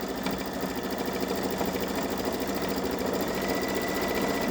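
Babylock Solaris Vision embroidery machine stitching a Christmas train design, a loud, steady, rapid mechanical chatter running close and unbroken throughout.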